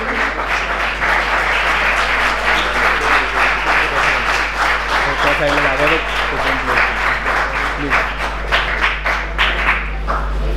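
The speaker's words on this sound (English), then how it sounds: "Can we have a round of applause for them all the way around?" Audience at a road safety prize distribution ceremony giving a loud, sustained round of applause for college award winners, dense clapping that thins toward the end, with brief talk in the crowd.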